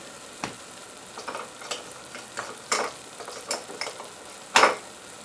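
Cumin sprinkled into a hot soup pot sizzles and fries in quiet, irregular bursts, with one sharper crackle near the end, close by and without talk.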